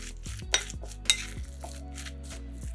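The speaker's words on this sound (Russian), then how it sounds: "Все перемешиваем." A spoon scrapes and clinks inside a bowl, stirring a sandwich filling dressed with mayonnaise, close and quiet, with a couple of sharper taps against the side.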